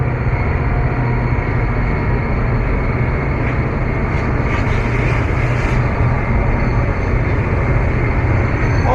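A heavy train rumbles past at close range, a loud continuous roar with grinding, rattling textures that holds steady throughout.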